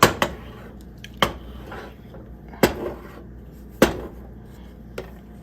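A pot of cooked polenta is shifted aside on a home stovetop, giving several sharp metallic clanks and knocks spaced irregularly, loud and close with quiet gaps between.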